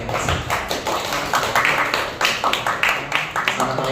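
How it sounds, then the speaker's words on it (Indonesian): A small gathering of teachers claps, close and uneven, with separate hand claps audible in a loose pulsing rhythm while a voice talks over it. "Tepuk tangan untuk Bapak Ibu guru yang kasih."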